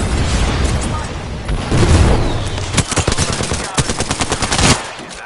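Heavy automatic gunfire in a PS4 battle royale video game, loud rapid bursts and booming shots that build into a dense fast-repeating volley, with a voice speaking briefly underneath.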